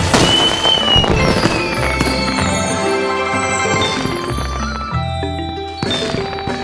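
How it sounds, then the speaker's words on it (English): Bursts and crackles of fireworks layered with bright electronic tones and chimes, loud and continuous, a celebratory display in a BabyBus Chinese cooking game. "Wow, the fireworks are so beautiful."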